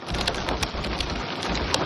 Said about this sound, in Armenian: Հանրապետության մի շարք շրջաններում խոշոր չափերով կարկուտ է տեղացել։